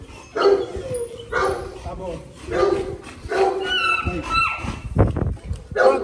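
Dogs bark repeatedly in sharp, loud bursts close by, with a person briefly speaking among the barks.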